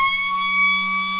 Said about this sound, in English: we're back in local footy when you hear that sort of siren, Kyle.